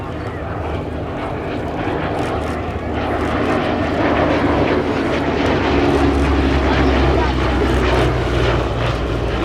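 A Westland Lysander propeller aircraft flies at the East Kirkby Airshow 2019, its loud engine drone swelling and staying strong, with a voice talking over it.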